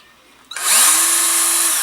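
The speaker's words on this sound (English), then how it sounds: "Drill a pilot hole." A power drill whirs up abruptly after a brief quiet moment and keeps spinning steadily at high speed while drilling a pilot hole, loud and close.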